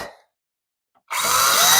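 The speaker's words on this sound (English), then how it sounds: "I might have to pre-drill some holes here." A power drill with a 1/8-inch bit, pre-drilling holes in wood for a gate latch, winds down, falls silent, then starts up again loud and steady, whirring through to the end.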